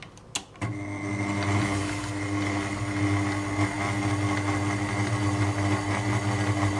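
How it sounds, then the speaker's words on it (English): A stand mixer with its paddle attachment runs steadily through cake batter, a loud, even motor hum with a constant mechanical whir close by after a couple of brief knocks at the start, and no voices. "when you use your paddle attachment to whisk the mixture"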